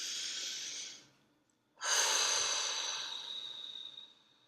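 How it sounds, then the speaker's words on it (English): A slow, deep breath drawn in and let out near a microphone, then a pause of silence and a second long exhale that gradually fades. "Please take a deep breath."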